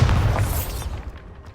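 Bombarda spell explosion in the Hogwarts Legacy video game, a loud deep boom that hits at once and rumbles away over about a second and a half, with no talk.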